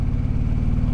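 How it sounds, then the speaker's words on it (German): An Indian Pursuit Dark Horse motorcycle pulls from 60 to 100 km/h in fifth gear, a low, steady rhythmic engine thrum with even firing pulses, moderately loud and without any voices. "wir kommen zum Durchzug von 60 auf 100 im fünften Gang"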